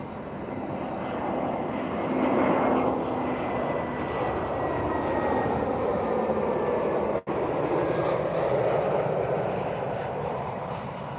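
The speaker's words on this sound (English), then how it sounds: "super smooth landing, very cool" A passenger airplane landing at Lisbon Airport, a loud sustained engine roar with broadband rushing noise that swells slightly and stays steady, heard from nearby with no talk.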